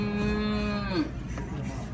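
A cow gives a single loud, close moo that holds steady and then bends downward before stopping, followed by quieter background noise.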